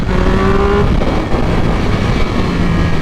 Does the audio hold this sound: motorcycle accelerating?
yes